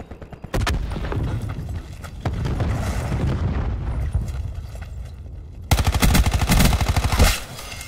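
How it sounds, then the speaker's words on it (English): Cluster grenade blasts and rapid gunfire in Black Ops 4 Kill Confirmed on the Elevation map: loud booming explosions layered with sustained automatic fire, ending in a dense burst of close, heavy shots. "Throwing cluster grenade."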